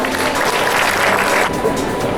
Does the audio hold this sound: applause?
yes